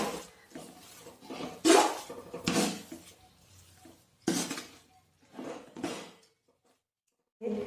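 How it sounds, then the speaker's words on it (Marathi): A spoon stirs a sabudana and potato mixture in a pot on a low gas flame, making irregular metallic scrapes and clinks in separate bursts with quiet gaps between. "आता आपण कमी गॅसवर मिक्स करूया।"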